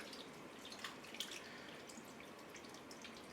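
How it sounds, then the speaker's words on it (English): Vinegary juice from jarred hot banana peppers poured into a slow cooker for Italian beef, a faint, close trickle with a few small drips over quiet background, no talk. "Put all the juice in there, some of the peppers"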